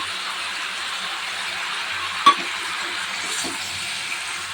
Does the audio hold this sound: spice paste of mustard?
yes